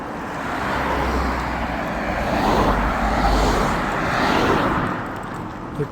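Vehicles pass along a roadside at sunset, heard from a walking route on the Narmada pilgrimage, as a loud continuous rumble that swells and fades as each one goes by, with no talking.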